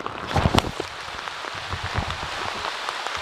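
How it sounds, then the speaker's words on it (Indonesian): Rain falling in a forest during a storm, a steady hiss of drops on leaves and ground with a few louder close patters near the start, no voices. "sudah hujannya turun"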